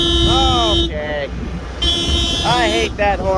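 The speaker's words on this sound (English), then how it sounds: "I hate that horn. That's the rotational alarm." A combine harvester's rotational alarm horn sounds in two loud, wavering electronic bursts outdoors, with a steady engine hum and wind beneath.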